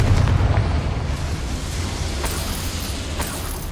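The Confringo fire spell in the video game Hogwarts Legacy bursts into a loud, broad rumbling explosion that decays over several seconds, with a few sharp crackles near the end.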